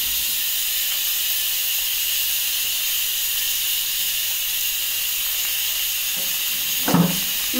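Cauliflower pieces sizzle in a hot pan with a steady, even hiss that runs close and unbroken, and a brief clatter near the end; no one speaks.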